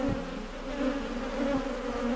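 A dense, steady hum of a honeybee swarm entering a hive box close by on Réunion Island, continuous and loud with slight wavering in pitch.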